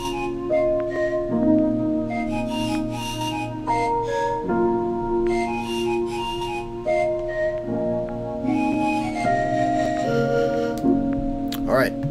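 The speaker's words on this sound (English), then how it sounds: "So this is a flute that I added on top of everything here that I already created," A flute line is layered over a full beat as the melodic hook, with sustained whistle-like notes moving above chords and bass, loud and steady in the mix with no talking.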